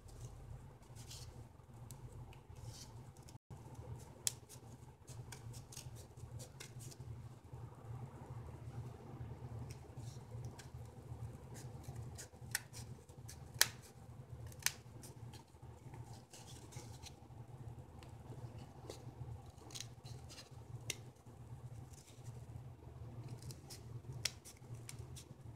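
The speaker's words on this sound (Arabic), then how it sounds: "اجيب المقص وابدأ اقصها كده" Scissors cut through cardboard for a children's educational craft, a steady run of crisp, close snips and rustles over a low constant hum, with no talking.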